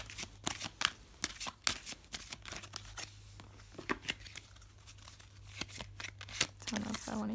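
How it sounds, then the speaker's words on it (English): A deck of Four Agreements oracle cards is shuffled by hand, a close run of quick crisp riffles and slaps in irregular bursts, with a voice speaking briefly at times. "So I'm going to be shuffling these."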